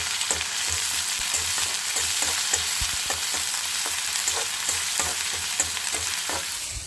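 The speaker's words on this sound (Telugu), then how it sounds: "ఇది కొంచెం పచ్చి వాసన పోయేదాకా ఫ్రై చేసేసుకోవాలి" Ginger garlic paste fries in oil for a fish curry, a loud, steady, close hiss with faint clicks from stirring throughout; no speech.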